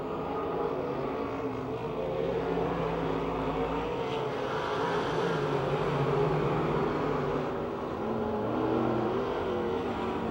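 Race cars roar around the track on the final lap at Pennsylvania Motor Speedway near Pittsburgh, a loud, continuous engine drone with rising and falling revs as the cars pass.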